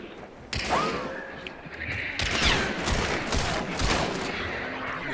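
Bursts of gunfire in a multiplayer shooter video game, rapid cracks and thuds layered with game effects, moderately loud and continuous across the moment.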